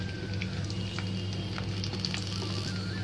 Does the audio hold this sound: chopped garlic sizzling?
yes